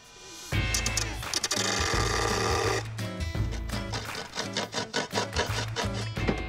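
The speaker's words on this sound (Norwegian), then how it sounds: "Jeg kan lage en sag av slipemaskinen." A handheld grinder cuts into wood, whining loudly and steadily at first, then breaking into a rapid stuttering series of bursts as the blade bites and releases.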